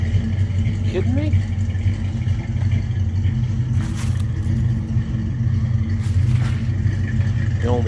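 A 1960s Jacobsen turf tractor with a Ford engine runs close by with a steady, loud low rumble, while people talk over it.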